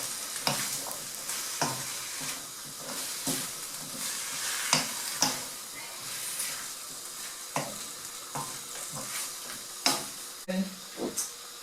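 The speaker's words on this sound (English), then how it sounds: "Stir it around." Curry with diced potato and carrot is stirred in a pan, giving a continuous low sizzle broken by regular scraping and knocking strokes of the spoon, close and moderately quiet.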